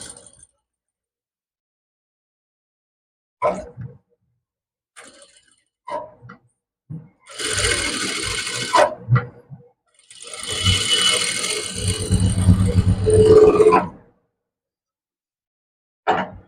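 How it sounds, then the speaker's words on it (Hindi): A sewing machine stitches a large suit in two sustained mechanical runs, separated by clicks and handling noises, close and fairly loud in an otherwise quiet room. "तरीके से एक और हमें पक्की सिलाई लगा लेनी है।"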